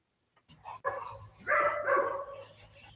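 A protection dog barks in a burst of loud, close barks with yelps during a bite-work training exercise, the barks coming in two clusters after a brief quiet start.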